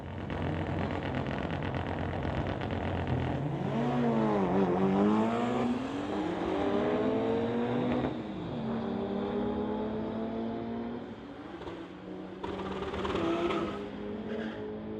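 Drag race between a 2018 BMW and a Mitsubishi Evo 9 at a street legal event: loud, sustained engine roar with rising and falling revs through gear shifts, close by and continuous for the whole run.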